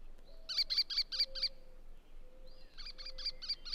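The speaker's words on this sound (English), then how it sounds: "house finches." House finches give two quick bursts of short, high chirping calls, a run of five notes then another run after a pause, over a faint background hum.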